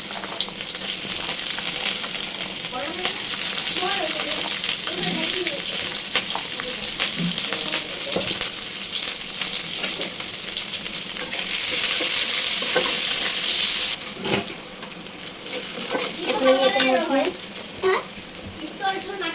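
Two or three dried chillies, onion and whole garlic sizzle loudly in a pan, with a continuous frying hiss, frequent stirring scrapes, and a voice speaking briefly in the background late on.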